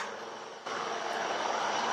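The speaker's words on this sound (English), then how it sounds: "Coming into view now, the Mi-17 helicopter" An Mi-17 helicopter flies past at an NCC rally at Cariappa Ground in Delhi, a broad engine and rotor roar that jumps louder partway through and holds steady, with no talk.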